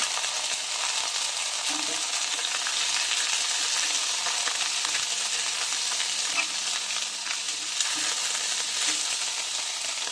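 String beans and onion sizzle and fry steadily in a pan for a coconut-milk dish, a continuous hissing crackle with faint stirring knocks now and then, close and fairly loud, with no voices.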